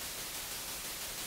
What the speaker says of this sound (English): I've chosen some white noise here.